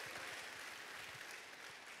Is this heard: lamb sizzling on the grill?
no